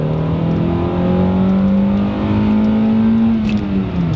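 Acura Integra engine revving hard as the car accelerates, a loud, close whine rising steadily in pitch and then easing off near the end, with no talking.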